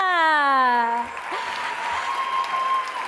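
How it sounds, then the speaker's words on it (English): A drawn-out, falling voice call gives way to an audience clapping at a forum closing ceremony, a dense, sustained round of applause in a large room. "Another round of applause for Nouran and Piwa."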